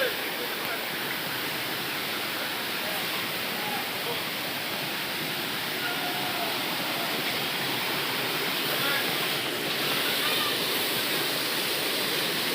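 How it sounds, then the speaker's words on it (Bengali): A waterfall at an outdoor picnic spot in Kokrajhar pours with a loud, steady, unbroken roar of rushing water that fills the whole scene without pause. "আমরা যত এগোচ্ছিলাম জলের শব্দটি ততই তীব্র হচ্ছিল।"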